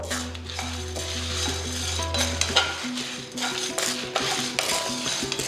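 Garlic and spices dry-roasting in a pan over a low flame, a spoon scraping and stirring with soft sizzling and clinks of metal on the pan under a steady low hum.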